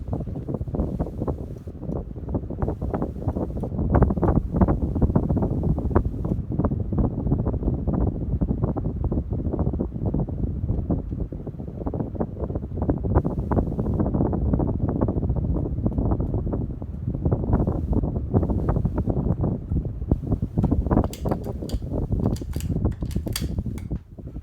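A Hunter Infiniti 52-inch ceiling fan with rosewood blades, slightly wobbling, spins steadily close by, giving a continuous airy whooshing rumble with faint rhythmic blade buffeting and no talking.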